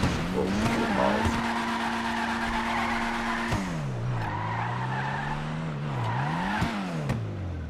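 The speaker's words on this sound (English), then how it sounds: "you can almost get this fucking car to go drift sideways just from the standstill" A car in GTA Online drifting sideways from a standstill, its tires squealing in long, loud, wavering skids over a steady engine roar, with no talk.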